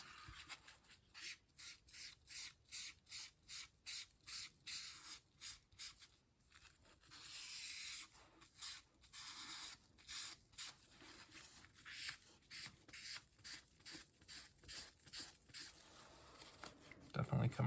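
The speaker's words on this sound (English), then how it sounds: "Don't want to be too aggressive here with the eraser sheet" An eraser sheet rubbing across a page of an Amazing Spider-Man #129 comic book during cleaning, making a close, steady run of rhythmic scrubbing strokes with a short pause partway through.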